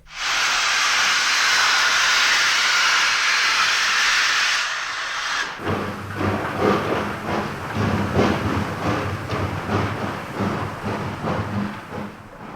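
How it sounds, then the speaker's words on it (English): A steam locomotive lets out a loud, continuous hiss of steam for several seconds, then gives way to rhythmic chugging and rolling clatter with no voices. "Woe to them that come within the vortex of the steam locomotive."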